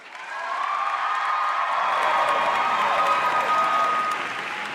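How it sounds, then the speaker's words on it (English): A graduating class at a university convocation ceremony applauds families, friends, faculty and staff, a broad steady wave of clapping from a large crowd that swells quickly and holds at full strength before easing slightly. "I invite the members of the graduating class to reciprocate by applauding the family, friends, faculty, and staff that have helped you reach your goal"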